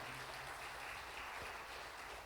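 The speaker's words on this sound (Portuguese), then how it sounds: "Aplauda o nome do Senhor." A church congregation applauding, with steady, fairly faint clapping from a crowd filling the whole moment.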